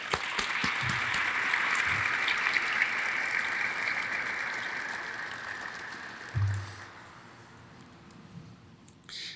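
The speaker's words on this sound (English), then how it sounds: "Please join us in a round of applause for all of our guests." Sustained applause from the audience welcoming guests at a military change of command ceremony, a steady wash of clapping that fades out near the end, with a few low thumps.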